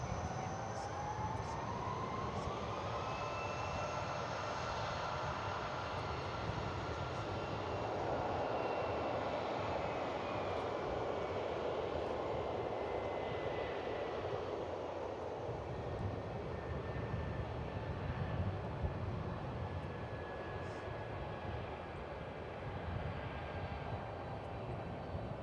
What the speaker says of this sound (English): As an American Airlines flight lands from Puerto Vallarta,